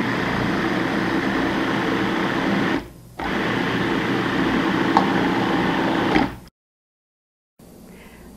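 A food processor pulses a falafel mixture with baking powder added, giving two loud whirring bursts of about three seconds each with brief stops between them.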